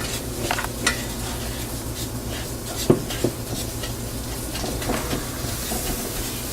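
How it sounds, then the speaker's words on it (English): Brown sugar toasts in a sauce pot with a soft, steady sizzle and a few louder stirring clanks and scrapes against the pot, heard up close without speech. "you kind of want to just toast that brown sugar, let it loosen up a little bit"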